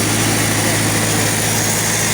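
A tractor engine revved to 1800 rpm while driving a budget vacuum tanker's pump, giving a steady, loud mechanical drone with a constant low hum throughout.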